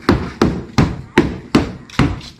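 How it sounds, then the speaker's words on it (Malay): A rubber mallet knocks on the fibreglass hull of a boat mould, with six evenly spaced, loud, hollow thumps and no voices. "bodi luar ni menggunakan tukul getah sampai ada bunyi macam"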